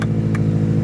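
A Subaru STI engine starts by remote start and settles into a steady, close idle with a low rumble; two brief clicks or taps come over the engine.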